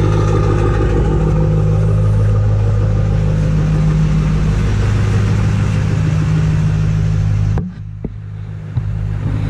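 A truck engine tuned with EFI Live and fitted with new Odyssey batteries idles after a warm-up on a 3 °F morning. Its loud, steady low rumble with a faint clatter runs for several seconds, then drops abruptly to a quieter tail.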